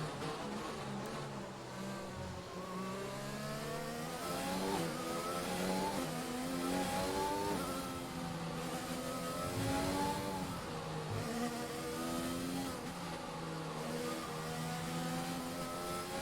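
Race car engines in a racing video game on a Vietnam circuit drone and rev in layered, rising and falling pitches, moderately quiet and continuous throughout.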